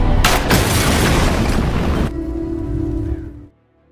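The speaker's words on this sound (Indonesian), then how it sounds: "It was a bomb." A bomb goes off in a war film about snipers with a loud, dense blast that roars for about two seconds. A lower rumbling tail follows and cuts off abruptly into silence.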